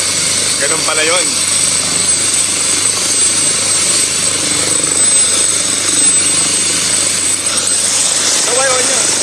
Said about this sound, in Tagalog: Nakakabingi yung ingay ng helicopter.